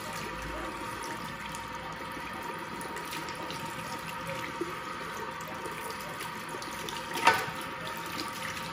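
Water runs steadily from a tap or shower while hair is rinsed, a continuous close hiss and splash with one brief louder knock partway through.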